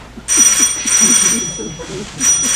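A telephone bell rings in three bright, insistent bursts during a school stage production of The Importance of Being Earnest, with faint stage noise underneath.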